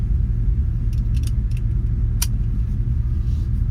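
A 1962 Chevrolet Impala idles after being restarted, a steady low rumble heard from inside the car, with a few light metallic jingles of keys over the engine drone.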